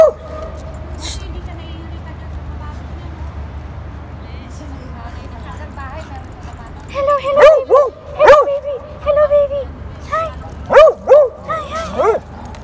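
A dog barks and yips repeatedly in short, sharp bursts, fairly close, with a person speaking in between.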